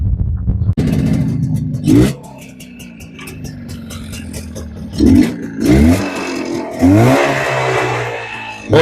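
An all-original 1987 Yezdi 350 twin cylinder motorcycle idles nearby with a steady low engine drone, broken by several sharp throttle revs that swell and fall back, loud and close.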